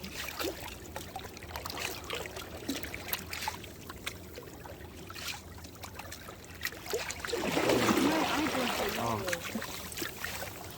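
Water trickles and sloshes into a paopao outrigger canoe out on the water in Samoa, a soft, steady gurgle that swells partway through while people talk nearby.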